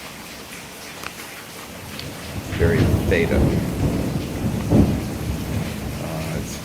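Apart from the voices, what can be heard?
thunderstorm with rain at night in Louisiana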